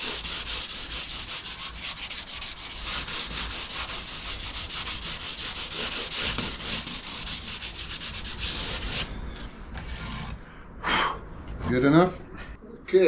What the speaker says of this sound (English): I'm just going to use a fine sanding sponge just to